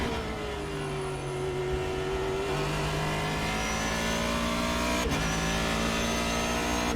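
A Ford GT GT3 race car takes an easy first lap, its engine humming steadily and rising slowly in pitch through a gentle acceleration, heard from inside the car with a brief click partway through.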